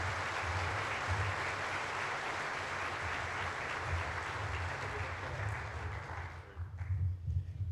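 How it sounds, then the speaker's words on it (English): An audience at the Black Hat USA 2002 security conference keynote applauds to welcome the speaker, with a steady wash of clapping that thins slightly toward the end as a few sounds rise above it. "I'd like to invite Mr. Clarke up. How about a warm applause?"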